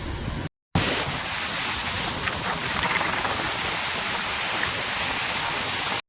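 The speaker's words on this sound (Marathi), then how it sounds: "धबधब्याचा थेट आहे तिथंच पडतंय आणि प्रेशर पण खूप आहे यावेळेस" A powerful waterfall plunges down under strong pressure during the monsoon, a dense, steady roar of crashing water that fills the scene close by and loud, broken only by a brief dropout near the start.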